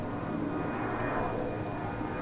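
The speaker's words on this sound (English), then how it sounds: "Big airplane coming." Large airplane passing overhead in San Diego, a steady broad roar that swells slightly mid-pass, moderately loud and continuous with no talking.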